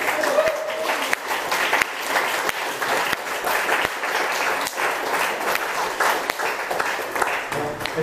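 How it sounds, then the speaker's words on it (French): Audience applause for the performers Nicolas Lausson and José Navas at a tribute performance, steady dense clapping sustained for the full eight seconds with a few sharper individual claps standing out. "Nicolas Lausson et José Navas, que nous applaudissons pour les applaudir"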